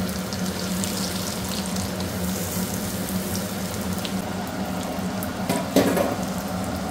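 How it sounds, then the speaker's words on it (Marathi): Egg kebabs shallow-fry in a frying pan with a steady bubbling sizzle and soft watery crackle, and a brief louder burst of spatter comes near the end. "आपण आता त्याला शॅलो फ्राय करूया 2 मिनिटांमध्ये"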